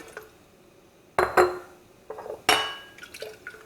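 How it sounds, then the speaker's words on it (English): A glass jar is washed under water, with clinks and knocks of glass mixed with bursts of splashing and running liquid, close and intermittent. "Let me wash this a little bit. Okay, wash the jar like this."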